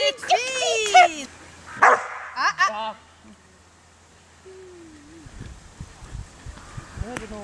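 A dog gives a few sharp barks and yips close by during an obedience training session, between stretches of a handler's praising speech and a quieter outdoor pause.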